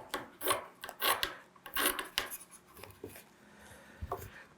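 Scissors cutting a piece of neutral fabric for patchwork, with soft rasping snips and rustles in irregular strokes, close and quiet, with no talk.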